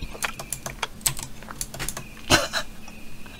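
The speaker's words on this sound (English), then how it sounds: "He's typing. I think he's typing." Irregular bursts of keystrokes clatter on a computer keyboard, close and fairly crisp, with uneven pauses and one louder thump partway through, no speech.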